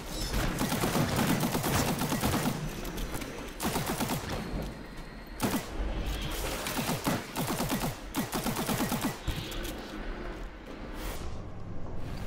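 Gunfire in the video game Destiny, rapid bursts of repeated shots in clusters separated by short pauses, close and loud, thinning toward the end.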